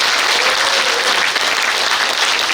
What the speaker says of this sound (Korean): 다시 한번 격려의 박수 보내주시기 바랍니다